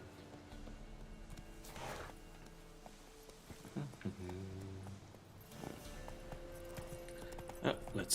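Horse hooves clip-clop in The Witcher 3 game in a few scattered bursts, fairly quiet, with someone talking over the gameplay between them.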